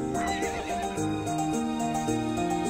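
A horse in the video game To The Moon gives a drawn-out whinny over a melodic music score, with clip-clop hooves in the background.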